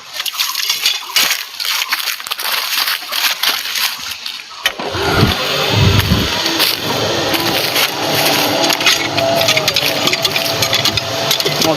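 An electric water pump motor kicks on partway through after a quieter stretch of clattering, then runs with a loud steady whirring hum and sloshing water.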